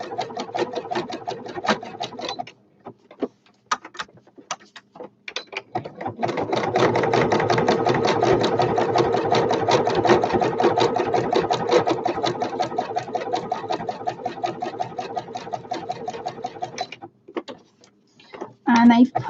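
A sewing machine fitted with a quilting needle stitching in short bursts, then running steadily in a fast, even mechanical rattle for about ten seconds before stopping, close and clear.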